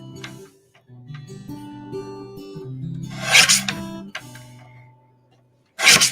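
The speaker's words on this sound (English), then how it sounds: "we're going to trim around the edge again" Paper card edges being trimmed, giving bursts of rasping, scraping cuts between quieter handling sounds, close up with no talking.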